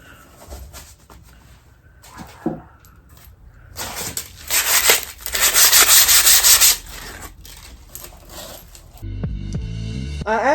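Hand sanding of a wooden entryway table, coarse rhythmic scratchy strokes close by that swell into a sustained loud rubbing burst, then fade, followed by a short musical sting at the end.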